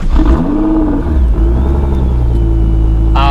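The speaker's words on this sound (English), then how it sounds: "now let's hear a little bit the engine" A Nissan GT-R fitted with an Armytrix valved exhaust idles with a deep steady rumble, then blips the throttle in a rising rev that falls back to a loud, close idle, with a sharp burst near the end.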